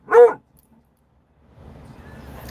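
Dog barking somewhere out in the open, a single short bark burst near the start, then quiet before a low rumbling background noise rises.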